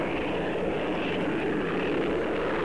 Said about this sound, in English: jet lift aircraft, fitted with the unique Pegasus engine and its swiveling nozzles